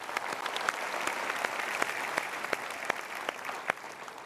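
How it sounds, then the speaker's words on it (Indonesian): Audience applause in a motivational seminar hall, steady dense clapping from a large crowd with occasional sharper individual claps standing out, continuous and fairly loud throughout with no talking. "kita berikan tepuk tangan untuk beliau."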